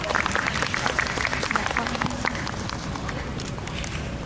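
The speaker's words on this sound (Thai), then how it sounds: "ขอเสียงปรบมือด้วยครับ" At a fan meeting press event in Bangkok, an audience claps in a dense, loud, steady round of applause that carries on to the end, with a little crowd murmur in the background.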